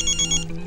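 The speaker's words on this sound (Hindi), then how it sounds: "रोहित का कॉल है, इसलिए मैं लाउड पे करती हूँ" A phone ringtone for an incoming call rings in a short, close, bright repeating electronic melody, cutting off abruptly partway through. It is heard alone, with no talk over it.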